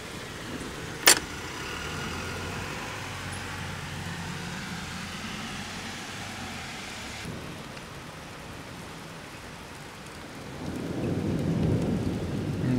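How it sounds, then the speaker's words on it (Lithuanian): Warm rain pours steadily during a thunderstorm in Tokyo, with one sharp, close crack of lightning-driven thunder early on and the downpour swelling louder toward the end. "Neblogai, neblogai žaibuoja. Bet šiltas lietus."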